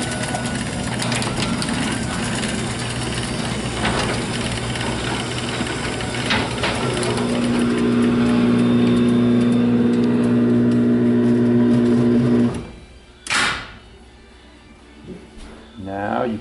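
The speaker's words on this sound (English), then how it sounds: "You take the remote, push it, and the door will close." A LiftMaster 8500 jackshaft garage door opener closes the door with a steady mechanical grinding and ratcheting hum that rises toward the end, then stops with a clunk.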